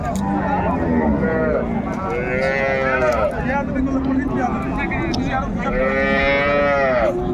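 Dairy cows and calves moo repeatedly at the Raniganj cattle market in Dinajpur, with several drawn-out, overlapping calls near and loud over steady crowd noise.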